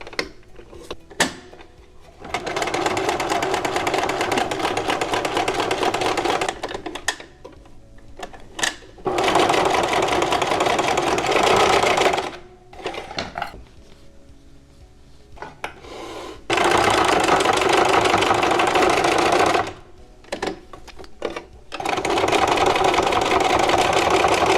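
A sewing machine stitches pleats into a fabric face mask, its motor whirring loud and close in several bursts of a few seconds each, separated by brief pauses and handling noises.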